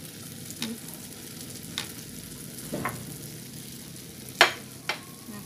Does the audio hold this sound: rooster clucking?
no